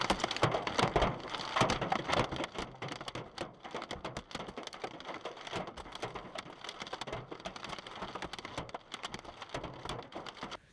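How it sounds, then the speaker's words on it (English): Hail pelts a car on a highway in a dense, continuous rattling patter of hard hits on metal and glass, steady and close throughout with no voices. "The drivers unfortunately encountered a hailstorm while traveling to a highway."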